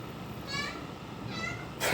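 An elderly cat meows twice, faint and drawn out, over a steady background hiss, with a louder, sharp noise at the very end.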